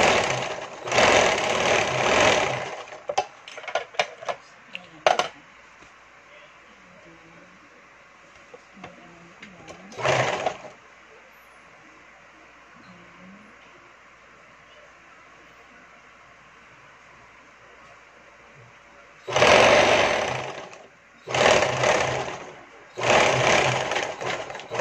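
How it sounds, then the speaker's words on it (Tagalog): High-speed sewing machine stitching a terrace curtain, running in loud bursts at the start, briefly near the middle, and in three bursts toward the end, with quieter gaps between. "May high speed machine pa ako dyan."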